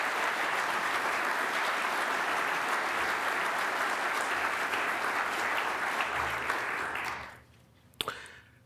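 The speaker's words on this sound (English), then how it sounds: "Can we give them a round of applause again" A police promotion ceremony audience gives a sustained round of applause for newly promoted sergeants and lieutenants, a steady wash of clapping that fades out after about seven seconds, followed by a single sharp knock.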